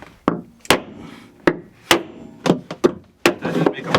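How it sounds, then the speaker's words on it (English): A hammer smacks wood on a tiny ice-fishing shack in northern Maine: about eight sharp, loud, close blows at irregular intervals with short ringing decays between them. "I'm just kind of giving a smack with the hammer."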